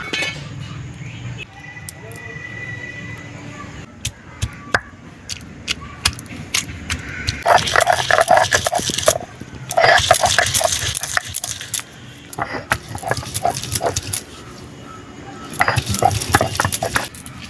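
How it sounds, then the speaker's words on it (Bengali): Roasted spices for a chicken dish being ground by hand on a grinding stone, heard as bursts of gritty rubbing and scraping that come and go in several loud stretches, with quieter clinks and rustles between them. "এই যে পোড়া মশলাটা বাটছি"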